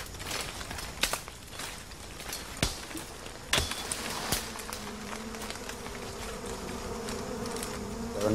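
Tropical wasps swarm a smoked nest near the Orinoco headwaters, a steady insect buzz with a few sharp, isolated pings and cracks scattered through it as wasps burst.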